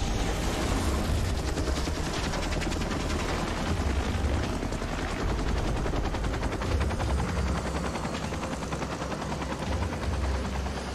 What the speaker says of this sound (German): Der Hubschrauber kommt